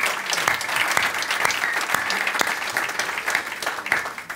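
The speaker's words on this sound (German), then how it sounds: "ein kleiner Applaus dafür" Studio audience at a German tech talk show applauding steadily, a dense wash of clapping that holds evenly throughout, with a few sharper individual claps standing out.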